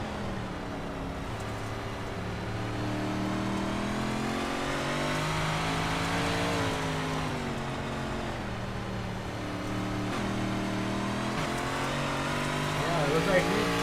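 Onboard sound of the number 64 dirt track race car at Lanier: a steady mid-pitched engine drone runs throughout with shifting revs, with a commentator talking over it.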